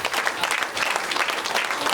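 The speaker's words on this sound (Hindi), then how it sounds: "तालियों की गड़गड़ाहट कम नहीं होनी चाहिए हमारे सेशन के अंदर।" Audience applause for a chief guest, Dr. JK Gautam, at a health awareness session on cancer prevention: dense, steady clapping from a crowd, loud and continuous throughout with no talk over it.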